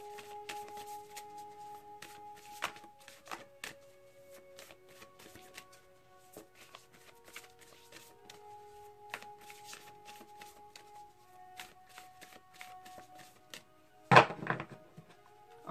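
Tarot cards being shuffled by hand, a soft, continuous riffle and slide of cards close by, with light taps throughout and a louder thump near the end.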